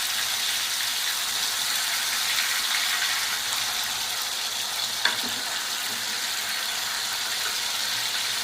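Pieces of murrel fish frying in a pan over a wood-fired stove give a steady, dense sizzle throughout, with one brief sharp pop partway through.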